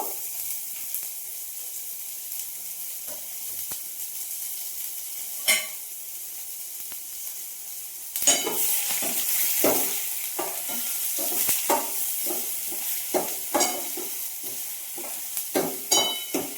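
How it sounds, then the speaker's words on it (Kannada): Onions frying in oil in a pan for masala wheat dosa: a steady close sizzle, quiet at first, then louder with repeated scraping stirs and clinks of a spatula. "ಈರುಳ್ಳಿನ ಫ್ರೈ ಮಾಡ್ಕೊಳ್ಬೇಕು, ಕೆಂಪಗಾಗೋವರೆಗೂ ಫ್ರೈ ಮಾಡ್ಕೊಳ್ಬೇಕು."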